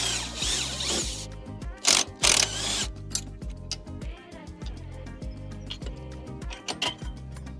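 A power tool backs the bolts out of a BOS stabiliser leg on a vehicle in bursts of loud mechanical whirring. Each burst is separated by quieter ticking and clicking.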